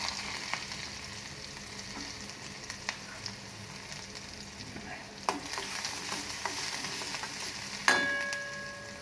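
Onion hits hot oil with cumin, mustard seeds and asafoetida, a faint steady sizzle broken by occasional utensil taps and a louder clatter near the end.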